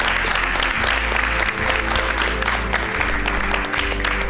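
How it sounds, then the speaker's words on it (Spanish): A studio audience at a Uruguayan cooking competition applauds Mariana in dense, continuous clapping that holds steady from start to finish. "Vamos a aplaudirla un poco más a Mariana."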